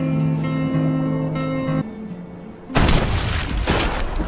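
A single loud gunshot in a Korean gangster film cracks in abruptly after a stretch of low droning music, followed by a dense burst of noise that rings on to the end.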